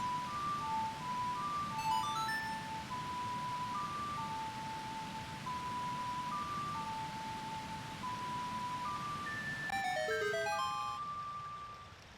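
A melody played as a clear ocarina melody in the video game Zelda Ocarina of Time, with sustained tones rising and falling steadily over a soft background hum, ending in a bright chiming flourish as a waterfall parts.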